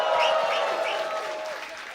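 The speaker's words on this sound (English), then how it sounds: "we're going to do a little practice round of applause before we get our first act up to the stage" A comedy show audience claps a loud practice round of applause. The dense clapping and cheering fade slightly over two seconds, with voices in the crowd.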